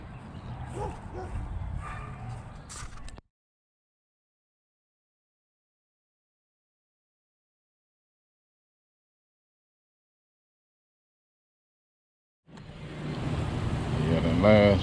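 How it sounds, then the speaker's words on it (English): Dogs bark and yip briefly, followed by a long stretch of silence before more barking and whimpering resume amid outdoor noise. "Neighbor's dogs."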